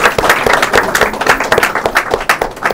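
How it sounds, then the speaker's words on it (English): An audience at a CARICOM Secretary-General youth engagement event in Saint Lucia gives the youth ambassadors loud, close, continuous applause with dense, rapid clapping throughout. "may I finally ask for a really round of applause for great ambassadors"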